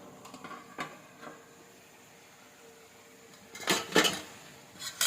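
Chicken being stirred in a cooking pot, with a few faint scrapes early and then a louder cluster of metallic clanks and scraping near the end against quiet background.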